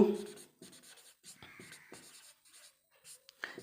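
Chalk or a marker taps and scrapes across a board in short irregular strokes during a math lesson, heard close with some faint talk mixed in.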